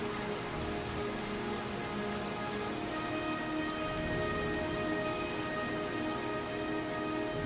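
Heavy rain in the video game Heavy Rain, a dense continuous downpour pattering on surfaces, loud and even throughout over a faint steady tonal hum, with no voices.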